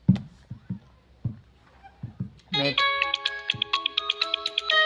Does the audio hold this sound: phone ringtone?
yes